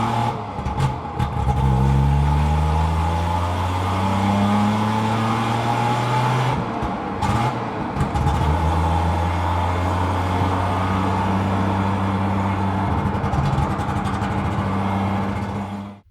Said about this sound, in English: 34 horsepower, I think, two-stroke water-cooled engine with a self-lubricating system.